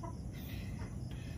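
Chickens cluck while being caught and put into the coop, with faint, short clucks against a steady noisy rural background and no talk.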